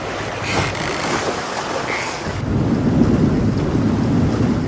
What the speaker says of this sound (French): Les vagues giflent littéralement l'île. Elles se brisent contre les rochers.